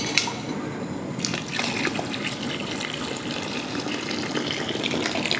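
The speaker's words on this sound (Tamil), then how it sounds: "நம்ம இப்போ வந்து புளியை ஊற்றி வேக விட்டுருவோம்." Tamarind water is poured into a pot of sambar with potatoes and vegetables, a steady splashing, gurgling stream of liquid that continues for several seconds at close range.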